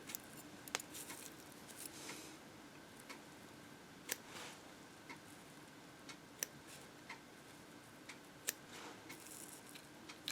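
Small scissors snipping the butt ends off a colorful fly-tying popper, a scattering of faint, crisp clicks at irregular intervals over a quiet, steady background hiss.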